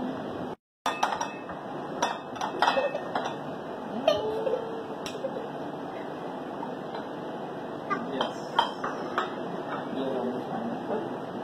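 Chicken pieces, macaroni and seasonings get stirred together in a bowl at home, giving scattered close clinks and scrapes of a utensil against the dish at an irregular pace, with a faint cat meow in the background.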